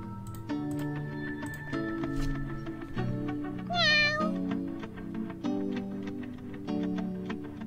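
A single cartoon cat meow rises clearly about midway through the mobile space-exploration game Miaoqi Planet, where two cats reach outer space, set against steady looping game music and light ticking.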